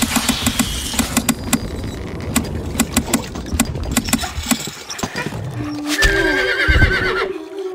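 Horses neigh and hooves clatter in a Stronghold Crusader battle, with loud sharp hoofbeats in quick rhythm and a clear whinny near the end.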